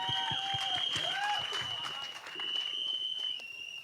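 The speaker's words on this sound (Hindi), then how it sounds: "एक बार जोरदार तालियां हो जाएं" Applause from an audience at a Hindi film trailer launch event, a dense wash of clapping filling the whole stretch with a steady tone and scattered voices over it.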